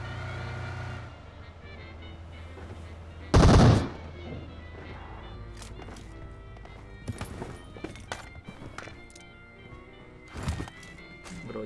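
Gunfire rings out in PUBG Mobile: one loud, sharp burst of shots, then scattered single cracks and another short volley later, over a low background hum with faint voices.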